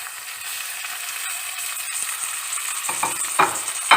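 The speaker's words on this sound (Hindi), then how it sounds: "इसमें टोमेटो ऐड करके इसमें फ्राई करेंगे इसके साथ।" Tomatoes fry with lightly browned onions for aloo baingan, a bright, constant close sizzle that swells near the end as a spoon stirs through the pan a few times, with no voices.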